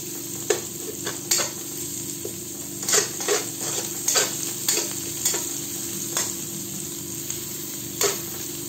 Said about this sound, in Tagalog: Maglagay na rin tayo ng hiniwang sibuyas. Gisahin lang natin ito ng 1 minuto.